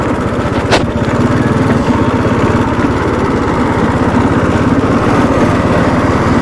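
A Bajaj Dominar 400 motorcycle riding off-road, its engine a steady loud droning thrum with even pulsing throughout and no pauses, heard close.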